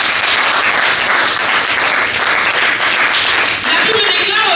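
A congregation at an evangelistic church service applauds the Lord with dense, sustained clapping that fills the space at full volume, with voices mixed into the crowd.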